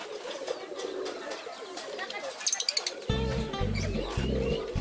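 Pigeons coo and chirp amid outdoor bustle, with a sudden low rumbling hum joining partway through.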